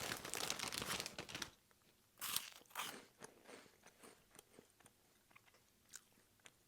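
Close, loud crunching bites into cheese pizza flavored Cheetos Puffs, a few sharp crackling crunches at the start followed by quieter, irregular chewing with small crisp snaps.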